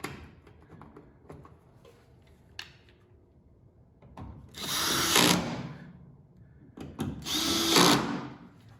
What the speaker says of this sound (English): And then we need to reinstall those two T20 screws.